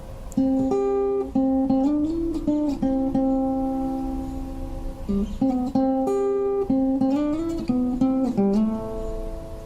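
Plucked guitar notes of a song intro ring out in a steady melodic fingerpicked line, with clear sustained tones and small pauses between phrases, played close and alone.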